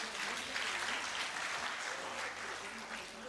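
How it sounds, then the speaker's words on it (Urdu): Applause for tree planters at a Green Pakistan tree-planting event in Pakistan, a steady, dense clapping from a gathered audience lasting throughout, moderately loud with no pause. "ان کے لیے تو جتنی بھی تالیاں بجائیں اتنی کم ہیں"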